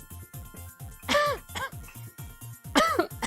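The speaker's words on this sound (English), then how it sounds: "pardon me for coughing" Several harsh coughs and throat-clearing bursts from one nearby person with a cold, scattered among spoken words and a faint jingling in a home kitchen.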